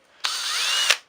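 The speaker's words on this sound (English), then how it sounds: "this battery-powered drill thing" A battery-powered drill whirs steadily for just under a second, its motor pitch rising slightly as it spins up, then cuts off with a brief click; close and loud with no talking.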